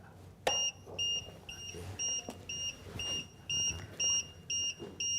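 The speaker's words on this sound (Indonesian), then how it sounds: "Bunyi tadi adalah indikator ketika arus listrik masuk." An electromagnetic stroke-therapy device sounds a string of short, evenly spaced electronic beeps as its DC adapter supplies power, preceded by a single sharp click of the plug. The beeps are close and clear over a faint room hum.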